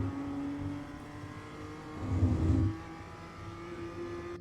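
BMW M2 CS race car in iRacing at Navarra Speed Circuit, engine droning steadily, then swelling briefly as it gets back on the gas out of a corner before settling again.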